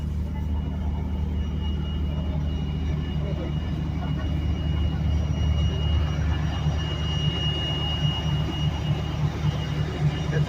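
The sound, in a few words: aircraft at an airport in Longyearbyen, Svalbard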